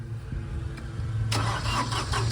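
A tractor's engine is started with the key on a farm, turning over and catching at about 1.3 seconds, then settling into a steady, loud idle close by.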